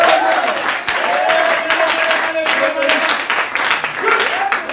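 A church congregation applauds and claps together in acclaim of the Lord during a Sunday worship service in Côte d'Ivoire, a steady dense wash of clapping that runs throughout, with voices and a preacher's speech mixed in.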